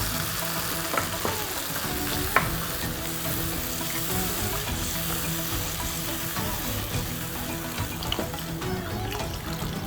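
Curry with roux simmering in a pot, a steady bubbling, sizzling hiss with soft pops that runs evenly throughout.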